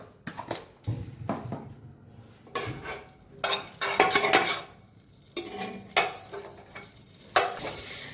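Butter melts in hot oil in a pan, with a low sizzle broken by repeated clanks and scrapes of a spoon against the pan, close, irregular and moderately loud.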